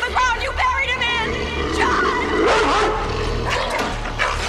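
A dog barks and yips in a Pet Sematary movie scene, several sharp close barks over a noisy background with voices.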